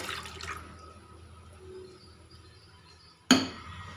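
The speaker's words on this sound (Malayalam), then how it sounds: "ഈ വാളം പുളിയുടെ വെള്ളം ഇതിലേക്ക് ഒഴിച്ചു കൊടുക്കാം" Tamarind water poured into a pot of Kerala-style fish curry with coconut, a sudden short splash near the end, loud and close, after a quiet stretch of faint kitchen sounds.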